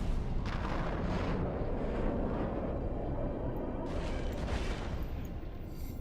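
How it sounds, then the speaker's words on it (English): Missiles firing and striking targets in Eve Online, a continuous dense rumble of booming impacts and launches layered over one another, loud and steady throughout. "Missiles are doing damage"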